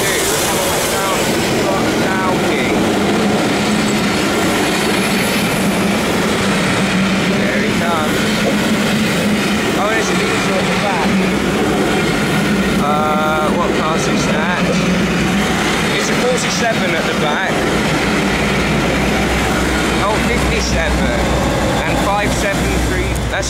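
Steam locomotive 34052 Lord Dowding passes Portslade Station with diesel 57314, a loud, sustained rumbling roar that fills the whole stretch, with people talking over it.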